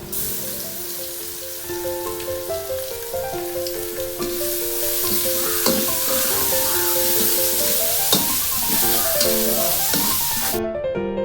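Crushed ginger and garlic sautéing in a pan for Jaffna-style mutton curry, a loud steady sizzle with stirring scrapes, over background music, cutting off abruptly at the end.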